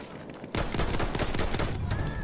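Sudden dense fusillade of gunfire in the video game Battlefield 1, rapid loud overlapping shots continuing without pause after a quieter opening.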